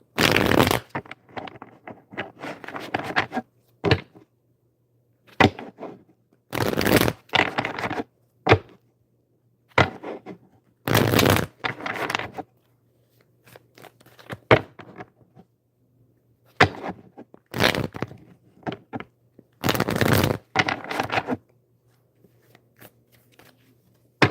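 Tarot cards are shuffled again and again in loud riffling bursts, with soft shuffling and tapping between them, up close and without any talking.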